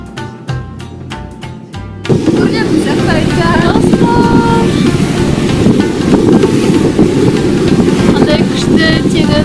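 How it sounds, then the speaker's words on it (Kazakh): Strong sea wind and rushing ocean water aboard a passenger ship, a loud, steady roar of wind buffeting the microphone that builds suddenly after a brief quieter stretch, with a voice speaking over it. "Қандай күшті теңіз. Ой, теңіз емес, мұхит. Морской бриз."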